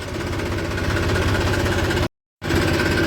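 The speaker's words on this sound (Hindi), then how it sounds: "तो दोस्तों बैक में लग गया ट्रैक्टर।" A tractor engine idles steadily while backing up, a loud, continuous low rumble with a knocking pulse, cut by a brief dropout before resuming.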